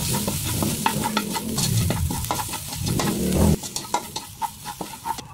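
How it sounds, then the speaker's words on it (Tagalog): Tomato paste sautéing with garlic in a pan for beef mechado: loud, continuous frying sizzle broken by repeated scraping stirs close by, with no voices. "Sabay natin sa pagisa yung tomato paste para matanggal yung asin."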